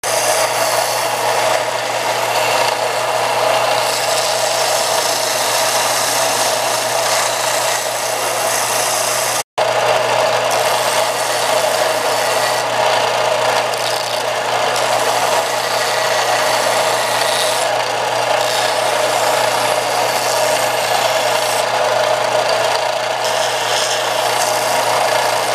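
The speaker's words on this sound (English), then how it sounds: "I'm going to take this on the belt sander and use the radius of the belt to my advantage" A belt sander shapes a wooden guitar neck, a loud, steady, close roaring whir with abrasive rasp, broken only by a momentary cut partway through.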